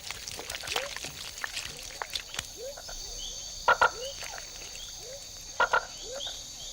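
Tree frogs in a Panama rainforest give repeated short croaking calls over a dense chorus of insects, with two louder clicking calls standing out near the middle and end.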